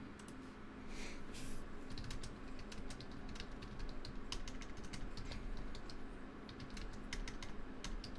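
Steady, rapid clicking of a computer keyboard being typed on at close range, quiet and continuous with no voices.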